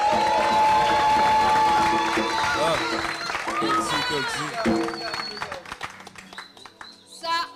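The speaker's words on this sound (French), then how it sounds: "ça mérite encore des applaudissements" Applause and cheering from an audience at a live show, loud at first with shouts and whoops mixed in, then thinning out as voices and chatter take over.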